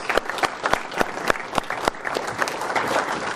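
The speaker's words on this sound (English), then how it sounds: "I want to give everybody a clap, please." Applause from a seated audience at a World War II roundtable gathering, a brief burst of many hands clapping with a few sharp, louder claps standing out nearby, lasting a few seconds.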